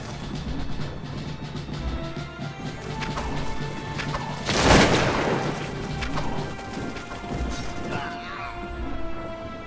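Musket volley fire in the Napoleonic-era strategy game Cossacks 2 at the Battle of Buda: a single loud crashing blast midway through, over dense battlefield noise and scattered distant shots.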